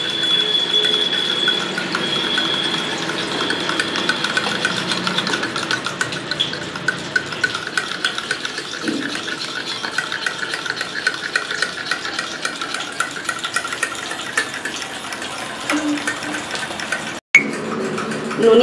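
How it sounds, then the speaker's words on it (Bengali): Fresh cream being whisked by hand in a bowl, a steady, close whirring, swishing churn that runs continuously with a faint kitchen hum beneath. "ভালো করে একটু ফেটিয়ে নিতে হবে।"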